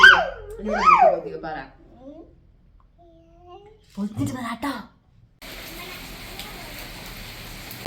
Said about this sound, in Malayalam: നല്ല മഴയാണ് കേട്ടോ പൊരിഞ്ഞ മഴ